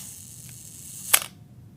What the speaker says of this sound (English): The spring actually sounds a little weak on this camera at about 1 second